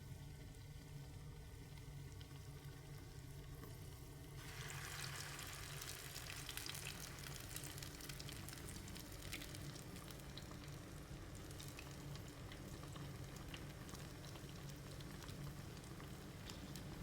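Vegetable vada with potato and eggplant frying in hot oil, a faint continuous crackling sizzle that grows a little busier after a few seconds, steady and alone without talk.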